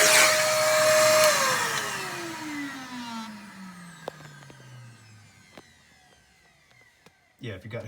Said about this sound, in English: we also have a small handheld vacuum